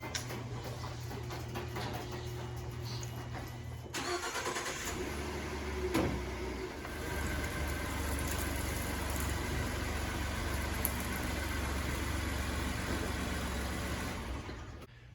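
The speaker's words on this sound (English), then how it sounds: "Let's go ahead, pull the truck in here and get started." A pickup truck engine, a 2015-2017 model, runs at a steady low idle as it pulls into a garage. The rumble grows slightly fuller partway through and stays continuous and fairly close, with no talking.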